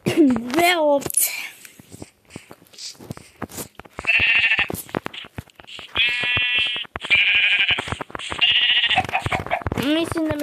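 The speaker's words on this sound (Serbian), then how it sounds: "Dve ovce." Sheep bleat loudly and close in a series of wavering calls, several in quick succession, separated by rustling and a few short voices.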